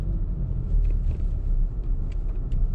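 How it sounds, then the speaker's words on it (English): Volkswagen Golf R TSI with DSG gearbox rolling over a speed bump, a steady low rumble of road and engine noise from inside the cabin with faint soft thumps and no clear knocks. "the last test for the car is we are about to go over a speed bump"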